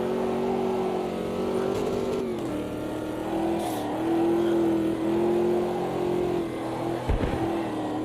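A car engine in a sim racing game revs and holds steady tones while warming tyres on a circuit, with gear changes shifting the pitch; loud and continuous, no talk over it.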